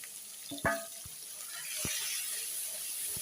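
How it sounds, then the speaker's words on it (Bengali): Onion dropped into hot oil with caramelized sugar in a home kitchen: a few clinks and a soft thump, then a steady bright sizzle that rises and holds, close and fairly quiet, with no talking. "এবার আমি দিয়ে দিচ্ছি পেঁয়াজ"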